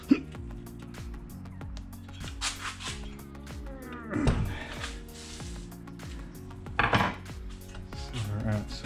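An adjustable wrench clinks and scrapes against a dented aluminium mountain bike rim, giving several sharp metallic taps and knocks over a steady background of music, with a couple of louder clanks near the middle and end.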